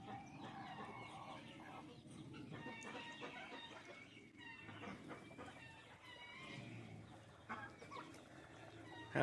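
Hens and a rooster in a farmyard cluck and murmur at a quiet distance, with scattered soft calls and low rustling over a steady background, faint overall.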